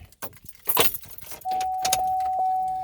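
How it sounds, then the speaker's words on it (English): Buick car keys jangle in a few close, bright bursts near a Buick Rainier being checked for a misfire, followed by a steady high electronic chime that sounds on alone. "Buick key right there."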